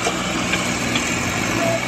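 A Mahindra 265 DI tractor engine runs at night with a steady, close mechanical drone and a loud, continuous rumble, alone.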